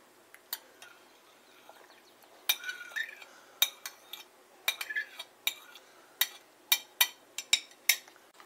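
A whisk or spoon clinks sharply against a bowl while mixing onion, tomato and lime juice, with irregular metallic taps that come quicker and steadier toward the end, close and clear with no talking.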